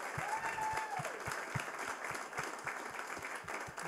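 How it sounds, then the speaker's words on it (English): An audience at a refugee entrepreneur pitch night claps for the participants, the applause fairly quiet and sustained, with individual hand claps standing out in an even patter. "Can we have another round of applause,"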